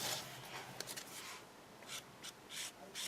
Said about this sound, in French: je vais colorier la tranche avec mon feutre gris souris